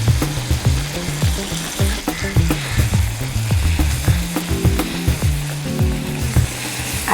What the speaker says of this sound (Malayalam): തക്കാളി ഇട്ട് വശക്കാം. ശകലം മഞ്ഞപ്പൊടി ഇട്ട് കൊടുക്കുക.